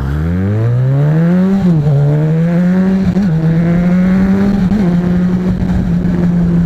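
A Yamaha XJ6 motorcycle engine revs up with rising pitch, drops briefly, then holds a steady loud drone, close by and continuous throughout.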